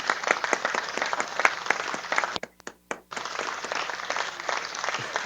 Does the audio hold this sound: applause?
yes